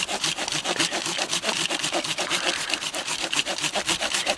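Hand saw cutting through wood, with steady, rapid back-and-forth strokes that rasp loudly and close up for the whole stretch, with no talking.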